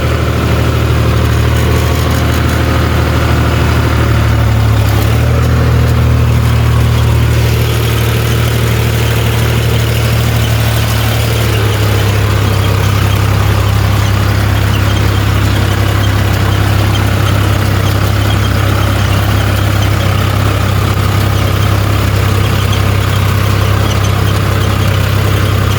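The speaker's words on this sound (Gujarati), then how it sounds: "આપણે હવે ટ્રેક્ટરમાં બેસી ગયા છીએ" A tractor engine runs steadily at night, a loud continuous low idling rumble throughout with no talk.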